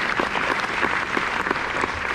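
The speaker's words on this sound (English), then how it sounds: "So big round of applause again for these incredible leaders and members." An audience applauds panel guests at a Disney fan event, a steady, moderately loud round of clapping with individual claps standing out through the brief burst.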